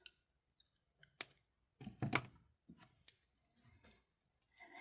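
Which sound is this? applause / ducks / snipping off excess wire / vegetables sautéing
snipping off excess wire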